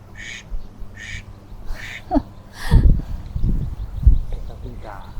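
Ducks quack in a few short bursts at a garden cafe in Bangkok, with someone talking over them and the birds sounding close and moderately loud.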